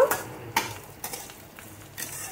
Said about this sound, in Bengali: এবারে দিয়ে দেবো রসুন কুচি আর লঙ্কা কুচিটা। এটাও হালকা করে ফ্রাই করব